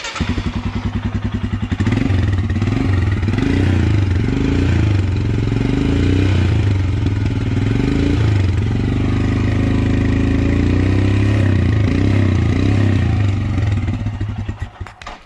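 Royal Enfield Himalayan BS4 fuel-injected ABS motorcycle exhaust held at about 3000 RPM, a loud, steady close-up engine drone with a throbbing low thump, settling off near the end.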